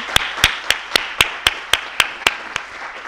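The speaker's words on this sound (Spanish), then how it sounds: "Yo creo que se merece otro aplauso" About ten sharp, evenly spaced claps ring out at a steady rhythm at a talk on gender and trans identities in the classroom, loud, close and alone with no voices.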